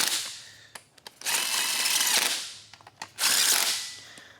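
Long 10mm-headed bolts on a Ford 5.4L 3V engine's AC compressor are run down with a power tool, heard as two long close whirring bursts separated by brief clicks and pauses.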